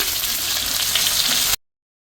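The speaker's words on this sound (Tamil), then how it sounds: "பச்சை மிளகு 3, கருவேப்பிலை கொஞ்சம் போட்டுக்கோங்க. இதெல்லாம் போட்டு நல்லா வதங்கட்டும்" Three green chilies and a few curry leaves sauté in hot oil with a loud, close, steady sizzle lasting about a second and a half before cutting off abruptly.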